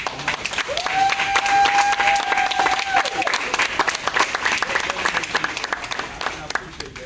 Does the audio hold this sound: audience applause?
yes